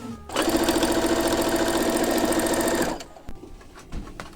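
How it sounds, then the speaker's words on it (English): A sewing machine stitches dress panels in one fast, steady mechanical run of about two and a half seconds, loud and close. It stops abruptly, followed by a few light handling clicks. "It's gonna be a lot of sewing and serging."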